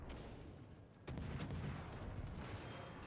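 Heavy naval gunfire from the French cruiser Colbert in a warship video game, a sudden loud boom after a quieter second, then dense rumbling salvos and echoing blasts continuing to the end, with no talk.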